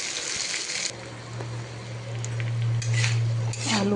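Potato pieces fry in a pan with salt, metal utensil scraping and stirring them in irregular strokes over a soft continuous sizzle, close up with a low background hum.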